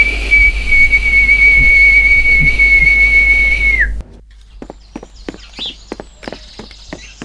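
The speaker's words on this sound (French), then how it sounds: "le boucher se mettait à siffler, comme une sirène d'alarme" A butcher's shrill, steady whistle held like an alarm siren for several seconds, loud and close, cutting off abruptly into quiet tapping footsteps.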